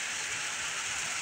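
Steady rain falls in a residential area, a dense, even hiss of drops hitting surfaces with no break and no voices.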